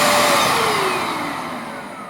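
A Bissell Lift Off carpet cleaner runs at full power indoors, a loud steady motor whine and airflow roar that slowly fades as it moves off, with no voices.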